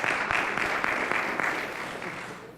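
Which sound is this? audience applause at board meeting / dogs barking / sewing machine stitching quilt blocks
audience applause at board meeting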